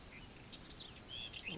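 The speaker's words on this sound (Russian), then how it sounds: "Сидят воробьи верхогорные" Mountain sparrows on a valley slope in Armenia give faint, high, brief chirps against quiet open-air background.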